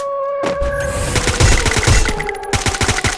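Rapid automatic gunfire in the Free Fire mobile shooter game, a loud, dense stream of close shots firing almost continuously over game music and effects.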